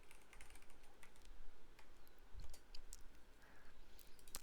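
Typing on a computer keyboard, a steady run of light quick key clicks at close range with a faint background hum, no talking.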